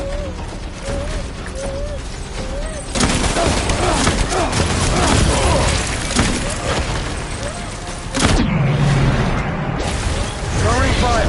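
Gunfire in a PS4 video game battle, dense bursts of rapid shots and heavy booms that surge loudly after a quieter start, with brief radio voices and whooshes mixed in.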